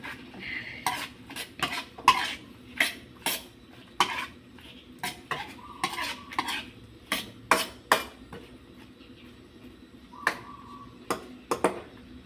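Cucumber tossed into a cooking pan and stirred, with a spatula knocking and scraping the metal in repeated sharp clacks at an uneven rhythm, close and fairly loud over a faint background hum.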